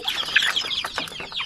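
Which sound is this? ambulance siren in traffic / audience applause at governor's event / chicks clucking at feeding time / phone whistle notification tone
chicks clucking at feeding time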